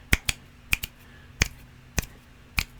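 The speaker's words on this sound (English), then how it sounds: "I'll do it with my finger snaps" Finger snaps from a drill-team demonstration, about eight crisp, dry clicks that come singly and in quick pairs against a quiet, still background.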